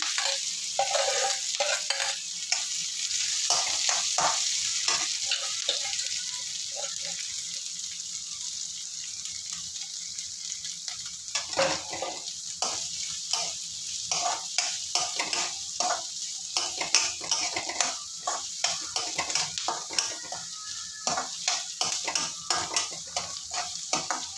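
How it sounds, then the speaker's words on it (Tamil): Onion, green chili and curry leaves sauté in a pan with steady frying sizzle and repeated spoon scrapes and stirring clatter, close and continuous with no talk. "வெங்காயம், பச்சை மிளகா, கருவேப்பிலை 3ஐயும் போட்டுருவோம்."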